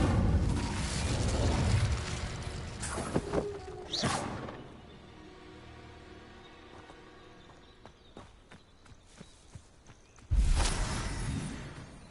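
A fire-spell blast in the video game Hogwarts Legacy, with loud roaring whooshes and bursts at the start, around four seconds and again near the end. Quieter game ambience and footsteps fill the gap between them.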